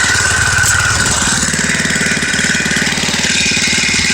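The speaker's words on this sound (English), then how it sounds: "now you can see that engine jumping around" Small engine on a kickstanded machine runs hard and shakes violently, a loud steady rattling drone with rapid knocking pulses throughout, close up and alone.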